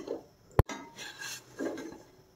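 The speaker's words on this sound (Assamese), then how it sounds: "এতিয়া মই থাল এখনত উলিয়াই ল'ম এইখিনি পিঠাখিনি" Steamed ladoos, an Assamese traditional sweet made without a steamer, are lifted out onto a plate, giving one sharp clatter of utensil on dish amid soft scraping and handling noises, close and fairly quiet.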